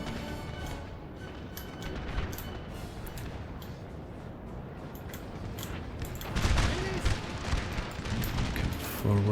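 Musket volleys crackle in Napoleon: Total War, a continuous rolling fusillade of many distant shots that swells louder in the latter part, with speech partly over it.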